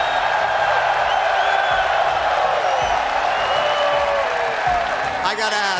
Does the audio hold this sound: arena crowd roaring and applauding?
yes